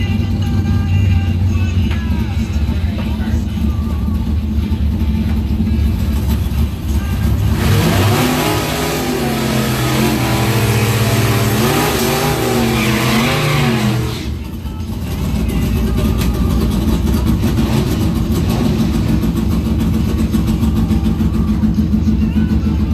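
Drag race cars making time-trial runs at the Blue Oval Battle, with a loud launch and hard acceleration roar in the middle, engines revving and fading while a background crowd and idling murmur continue before and after.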